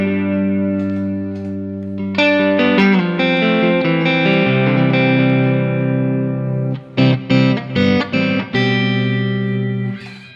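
Clean electric guitar through a delay pedal into a clean amp: sustained chords and picked notes with echoing repeats and a washy tail, loud and close with no talking.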